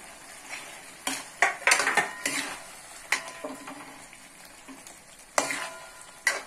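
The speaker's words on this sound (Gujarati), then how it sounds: "હવે એમાં આપણે આ મુઠિયા એડ કરી દઈશું અને થોડું લીલું લસણ નાખી દઈશું" Muthiya dumplings and green garlic are tipped into a simmering yogurt gravy in a pan for a Kathiyavadi Rajwadi sabji, with close scraping, stirring and clinks of a spoon against the pan over a soft sizzle.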